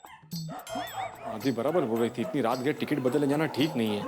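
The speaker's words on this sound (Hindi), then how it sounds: "ऊपर से कुत्ते भी भौंक रहे हैं।" Dogs bark at night during rain in a residential housing society in a comedy TV scene, heard faintly and intermittently beneath continuous close conversation.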